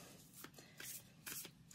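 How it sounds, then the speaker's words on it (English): Quiet, soft riffling bursts of tarot cards being shuffled by hand, a few brief papery flurries close by with no talking. "I do shuffle these in front of you"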